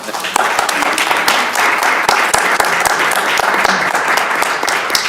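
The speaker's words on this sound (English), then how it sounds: "Give her another round of applause." Audience at a school board of education meeting applauding a student receiving a certificate, loud continuous clapping from a crowd with sharp nearby claps standing out, voices mixed in.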